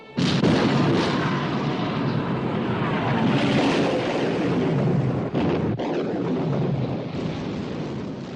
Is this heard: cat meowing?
no